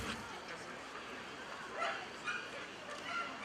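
Dogs yipping and barking at an outdoor dog show on a hot day, a few short scattered barks at moderate distance amid crowd murmur and a voice speaking.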